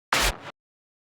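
A hard industrial kick drum hit sounds once, loud and alone: a heavy distorted punch with booming low end that drops to a shorter fading tail and cuts off abruptly.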